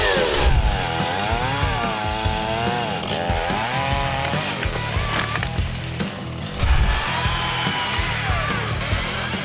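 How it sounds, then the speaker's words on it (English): A chainsaw cuts through a fallen log on a winter 4WD track at Mt. Skene, Australia, its engine whining loud and close, rising and falling in pitch as the chain bites into the wood. "Chainsaw's out, so let's get into it."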